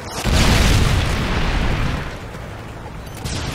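Predator missile detonation in a Call of Duty video game, one loud, close, deep boom that swells quickly and rumbles on for a couple of seconds before fading into lingering low rumble.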